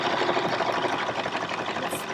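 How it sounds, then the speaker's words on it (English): A BERNINA or Brother sewing machine embroiders a small Halloween pumpkin design, a steady, fast mechanical whir and needle chatter running close and continuous for the whole stretch. "Oh, it's sewing on the screen too."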